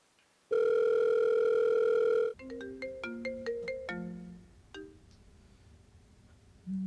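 An outgoing phone call produces a loud steady ringback tone, followed by a quick run of bright electronic melody notes that fade out, heard alone with no talking.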